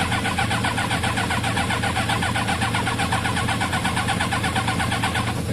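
A Kawasaki ZL600 motorcycle engine runs steadily and close just after starting, with a fast, even mechanical chatter and constant loudness throughout.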